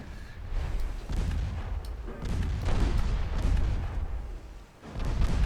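Heavy 5-inch naval guns firing in a warship video game, a dense run of deep booming blasts that overlap into a continuous rumbling barrage, loud and close, with a brief lull near the end before another blast.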